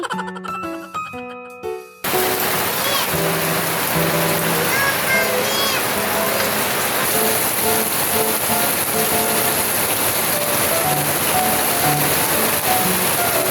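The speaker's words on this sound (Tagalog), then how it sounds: "Sobrang lakas nga ng ulan" Heavy rain pours steadily on a rainy day at home, a dense continuous hiss that fills the scene after a brief quiet start, with faint chimes and voices mixed in.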